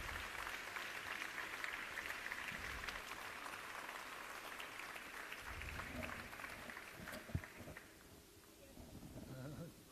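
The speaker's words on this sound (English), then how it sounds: "Applause for Cham and Belarus" Audience applause at an adult education conference in Leipzig, honoring the Cham and Belarus delegations; steady, moderately loud clapping fills most of the clip, thinning near the end, with voices mixed in.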